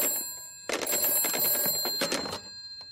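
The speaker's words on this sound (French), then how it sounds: "je vais appeler mon amie Madame Elf" An old-fashioned telephone bell rings loudly in a children's cartoon, sounding in two bright bursts separated by a short gap, with no talking over it.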